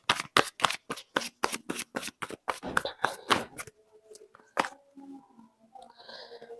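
A tarot deck is riffled and shuffled in quick, even bursts of crisp card flicks, then slows to a few loose card slaps and soft handling sounds.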